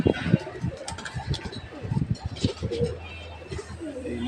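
Pigeons coo on a rooftop, with low, throaty calls repeating at close range over a busy, rustling background.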